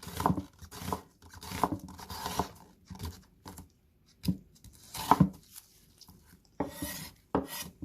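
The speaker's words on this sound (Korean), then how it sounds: "양파를 썰겠습니다." A knife slicing onion on a cutting board, with repeated short rasping cuts in an irregular rhythm, close and fairly quiet, separated by brief pauses.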